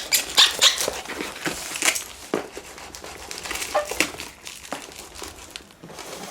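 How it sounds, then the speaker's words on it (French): Packaging for an airsoft Colt Python revolver by Cybergun/KWC being opened, with close crinkling and rustling of cardboard and plastic in uneven bursts throughout. "Alors sans plus tarder je vais déballer ça tout de suite."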